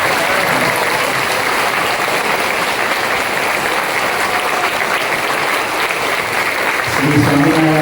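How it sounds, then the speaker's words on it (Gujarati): An audience stands and applauds in a Swaminarayan temple hall in Modasa, a loud, dense, continuous clapping that holds steady for several seconds. "આપણે બધા જ પોતાના સ્થાને ઊભા થઈ અને તાળી વગાડી અને આ લોકોને સન્માન"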